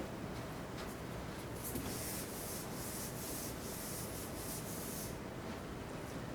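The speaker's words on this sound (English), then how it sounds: "Let me erase that a little bit." A pencil eraser rubs back and forth across paper, a steady close scratchy friction that runs continuously, brightening in bursts through the middle before easing off.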